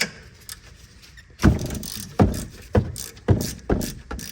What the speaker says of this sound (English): You're gonna use your hex number 7 on a ratchet, because that's the only way to get in there.